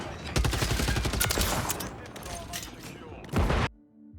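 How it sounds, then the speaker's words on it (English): SOA Subverter battle rifle fire in a video game comes as dense rapid bursts of loud gunshots that sustain for several seconds, then one final short burst that cuts off abruptly. "I just know the noise it makes when it takes a man's life."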